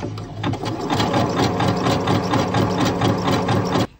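Sewing machine running steadily for about four seconds, stitching fabric with an edge presser foot, a fast even mechanical chatter heard close up and alone before stopping abruptly.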